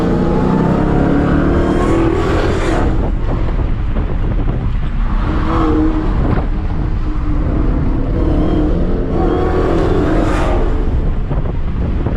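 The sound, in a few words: car exhaust pops while accelerating in the rain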